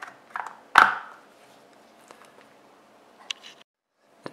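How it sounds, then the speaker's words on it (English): A plastic cover being fitted back onto Sony WH-1000XM3 headphones, giving one sharp close snap followed by a few small faint clicks and taps. "After that, you can put the cover back on."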